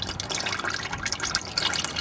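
Used engine oil pours from an open drain plug into a drain pan as a steady, splashing gush of liquid. It is close and fairly loud, with no talk over it.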